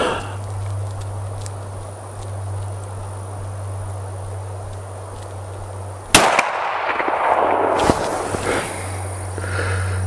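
A 30-30 rifle fires once outdoors in a loud, sharp crack with a short echo, then a second sharp impact follows, over a steady insect hum.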